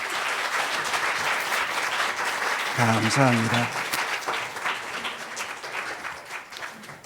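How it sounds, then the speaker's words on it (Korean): A church congregation applauds steadily throughout at an Easter service, a dense wash of clapping, with a brief spoken voice in Korean cutting in partway through. "다시 한번 크게 박수하겠습니다."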